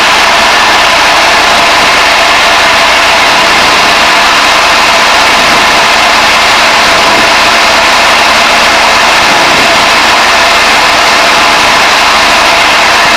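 An RV-6A light aircraft engine throttles up during two-ship formation flight, heard as a loud, constant broadband cockpit drone with a steady low hum and no clear breaks, without voices.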